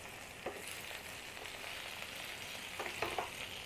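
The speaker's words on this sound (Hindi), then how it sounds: "अब मैं इसको कवर करूंगी और इसको फ्राई करूंगी।" Pointed gourd (parwal) and potato pieces fry in a pan with a steady, soft sizzle throughout, broken by a few brief louder crackles and spatters near the start and toward the end.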